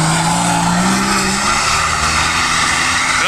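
A Jeep Wrangler's engine revs hard on a sand dune, a loud, sustained, strained roar with rising engine tone and a broad rush of noise, close and unbroken throughout.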